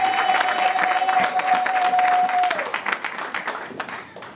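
A church congregation at a Holy Communion celebration applauds and cheers in a broad, sustained wash of clapping that carries a steady tone at first, then thins into scattered claps.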